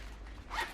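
A small coin purse is unzipped in one quick, close rasping pull of the zipper, brief and fairly soft against a quiet room.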